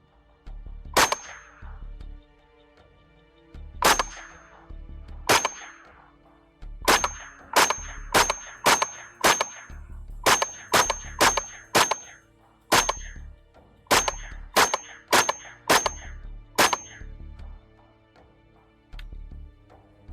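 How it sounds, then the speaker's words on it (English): An FN PS90 rifle fires at a melon target, about twenty sharp, loud single shots at uneven intervals, some in quick pairs and runs, each cracking and then ringing briefly. "We're just going to shoot until the melon is no longer fun to shoot."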